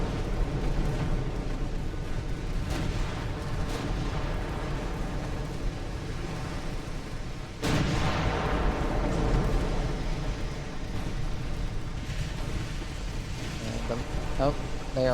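Warship guns fire in the naval combat game Ultimate Admiral: Dreadnoughts, a dense continuous roar of booming shots with one sharper, louder blast partway through.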